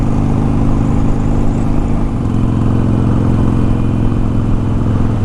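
A Harley-Davidson Iron 883 motorcycle runs on the road, its engine a loud, continuous low rumble blended with steady wind noise throughout.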